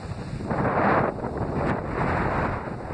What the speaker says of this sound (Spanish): Hoy hay mucho viento.